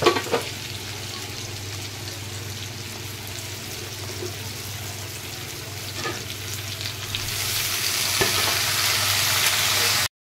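Papaya, pointed gourd, pumpkin and potato fry in hot oil, giving a steady close sizzle that grows louder and brighter near the end before cutting off abruptly.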